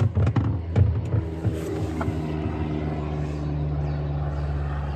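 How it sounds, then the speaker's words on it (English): A low-flying propeller aeroplane drones steadily overhead, heard from a kayak on open water, with a few close knocks and clatters of gear at the start before the engine hum settles into a continuous throb. "rather low flying aeroplane going over"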